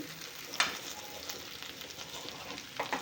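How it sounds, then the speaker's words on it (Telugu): Stuffed bitter gourd frying in a pan with curry leaves, a constant close sizzle and crackle with a couple of sharper spatters, steady throughout and without voices. "ఇలాగే ఫ్రై చేసుకోవాలి"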